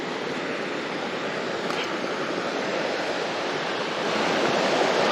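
Fast-flowing river water rushing through a ravine, a steady broadband roar that swells slightly louder toward the end, with no voices.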